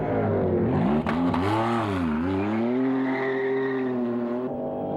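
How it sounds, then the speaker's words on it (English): Jaguar race car with a V6 turbo engine at Road America, running loud and close as the engine note rises, dips and climbs again through the revs. "Distinctive sound of a V6 turbo engine in the Jaguar"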